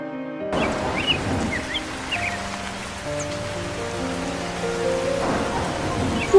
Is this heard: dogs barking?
no